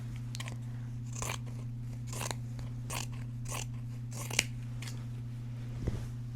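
Scissors snipping through a crochet blanket to cut a pants pattern, about eight crisp crunching cuts at a steady pace over a constant low hum, close and alone.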